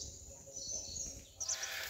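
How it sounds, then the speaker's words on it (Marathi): Birds chirp and tweet in short high calls on a calm morning beside a misty Konkan river, the bright chirps clustering near the end over a steady low outdoor hush. "खूप छान वातावरण आहे, पक्ष्यांची किलबिलाट"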